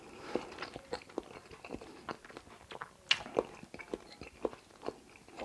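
Quiet, close-up chewing of king prawn egg foo yung, with soft irregular crunches and wet mouth sounds spread over a few seconds.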